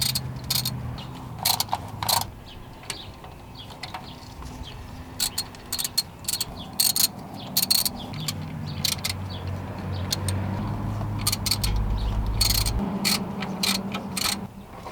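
A ratchet tightens the bolts on a car's differential cover in a star pattern, giving bursts of rapid metallic clicking that stop and restart as the tool moves from bolt to bolt, close up and with no talking.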